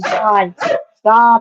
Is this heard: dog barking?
yes